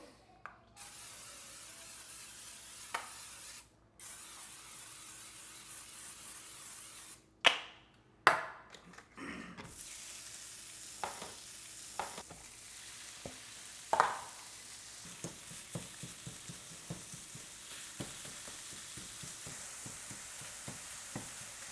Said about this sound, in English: We're gonna spray both pans, drop the meat, mince it up